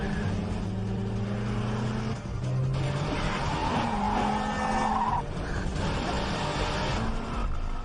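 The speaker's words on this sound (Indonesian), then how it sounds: "menyetir seperti orang gila dengan kecepatan tinggi" A car is driven fast and recklessly, its engine roaring loud and close while tires squeal and skid in bursts, the pitch shifting as the vehicle swerves and accelerates.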